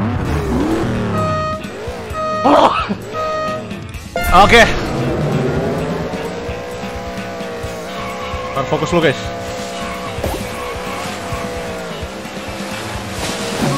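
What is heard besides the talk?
racing car engine in video game Beach Buggy Racing 2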